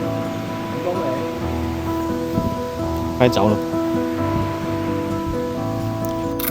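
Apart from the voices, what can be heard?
heavy rain in the forest on a hiking trail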